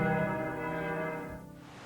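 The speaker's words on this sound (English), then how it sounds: "Inside the church hangs a wishing bell, which legend says will grant your wish if you ring it 3 times" A church wishing bell at Lake Bled, Slovenia, sounds once with a rich ringing tone that decays over about a second and a half, heard alone.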